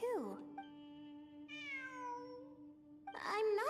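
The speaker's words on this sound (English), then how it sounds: "It really is a cat." A cat in Genshin Impact gives a short meow, then a drawn-out rising and falling meow that sustains for several seconds, with a voice speaking close by at the start and end.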